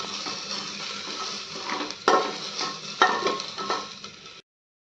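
Dal cooking in a pot on the stove, a soft continuous bubbling hiss broken by two sharp metallic clanks of a spoon against the pot, then sudden silence.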